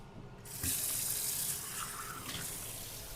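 Tap water pours steadily into a cooking pot for Danish risalamande, a rushing stream that starts after a brief quiet moment and keeps flowing close by with no talk over it.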